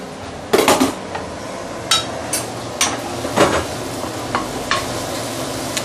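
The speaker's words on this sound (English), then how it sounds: "Probably about medium heat to slowly saute the chili to really bring out the nice fragrance" Chili sautéing in a wok over medium heat for a spicy tamarind fish broth: a steady soft sizzle broken by sharp metallic scrapes and clanks of a spatula against the wok, several in irregular succession, with no talk.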